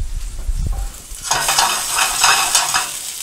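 Asparagus sautéing in a pan with garlic: quiet handling at first, then a loud, steady sizzle with rough bursts of stirring that runs to the end, with no talking.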